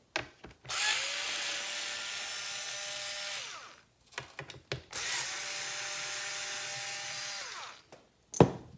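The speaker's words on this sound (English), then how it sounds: "We need to remove the 2 bolts on the top as well." A power tool backs out bolts from a Onewheel board in two whirring bursts of a few seconds each, with rising-pitch spin-ups, short clicks and knocks between them, close and clear.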